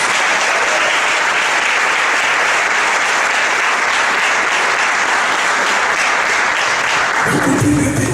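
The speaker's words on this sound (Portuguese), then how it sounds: "Vamos dar uma salva de palmas para Jesus." Congregation in a church gives sustained loud applause, dense clapping carrying on for several seconds before thinning out near the end.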